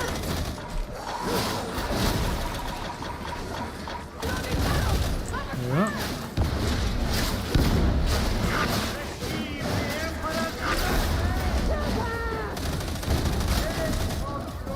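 Gunfire in Warhammer 40,000: Darktide, a Veteran build firing steadily in rapid bursts with booming impacts and crashes throughout, while voices talk over the shooting.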